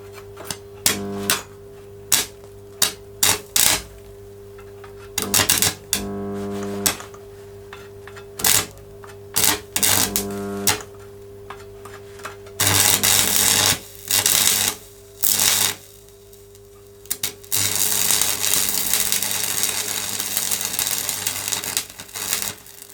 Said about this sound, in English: Got a load of stuff inside there, so it's just spraying out sparks. But it struck up and it welded.